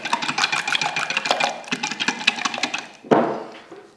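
Eggs and a splash of double cream whisked together in a jug, giving a fast, steady run of close, clattering strokes that ends with a louder scrape.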